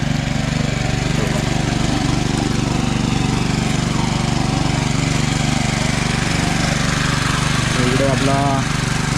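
A steady motor drones loudly and continuously throughout, a water pump engine at a village well chugging close by with a constant low hum.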